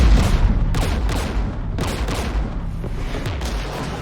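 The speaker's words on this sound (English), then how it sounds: "We're taking fire." Heavy gunfire in a Mass Effect battle near a Geth jamming tower, dense overlapping bursts and booming blasts that stay loud and continuous throughout, with no voices.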